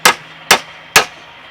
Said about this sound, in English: Our most experienced nail hammer guys